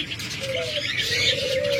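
Soft cooing from caged red-eyed albino birds nearby, with a few thin chirps mixed in over a steady hum of background noise.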